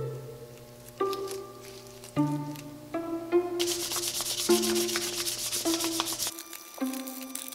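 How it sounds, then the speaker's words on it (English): Sandpaper is rubbed over a hand-carved wooden spoon to take off raised grain after wetting. A steady, close scratchy rasp dominates the middle of the clip, with tonal background sound throughout. "We'll come back and we'll sand off that raised grain."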